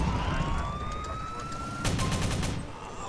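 A police siren wails continuously in GTA San Andreas with Polish police cars modded in, its steady tone running over rumbling game noise, followed by a rapid burst of gunfire near the end.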